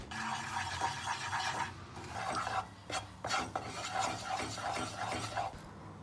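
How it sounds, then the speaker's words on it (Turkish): Lemon lozenge paste simmers in a pot while a spoon stirs it, giving soft rasping scrapes in an uneven rhythm over a quiet bubbling bed, close but low in level, with no speech. "Hemen karıştırarak iyice özleşene kadar biraz daha kaynatıyorum."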